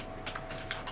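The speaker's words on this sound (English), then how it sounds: "if you hear a bunch of clicking in the background" A few quick, soft clicks of keys tapping close by, light and irregular against a quiet background.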